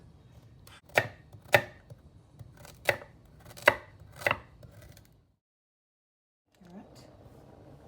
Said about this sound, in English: I'm gonna cut my carrot to put in my stew peas